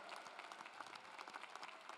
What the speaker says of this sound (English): I'm going to ask you to give them another round of applause